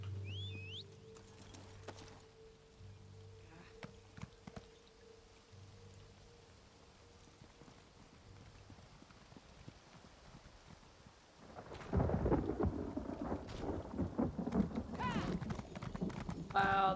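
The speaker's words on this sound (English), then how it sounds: "Wow, that's some really good rain sound effects." After a quiet stretch with faint clopping sounds, steady rain suddenly comes in and patters loudly for the last several seconds, in the video game The Elder Scrolls Online.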